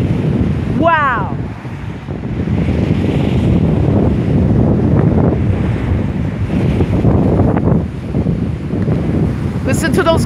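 Strong wind roars and buffets the microphone in gusts during a high-wind rainstorm, with a rushing, stormy wash of noise throughout and a brief voice early on.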